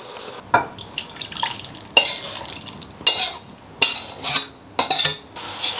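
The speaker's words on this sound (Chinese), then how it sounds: "葱姜爆香，加香醋，" Scallion and ginger stir-fried in a wok, with loud, repeated bursts of stirring and sharp metallic scraping against the pan over a low background sizzle, heard up close.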